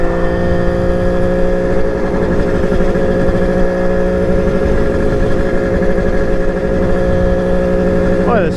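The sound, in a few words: Kawasaki KH500 H1 motorcycle engine running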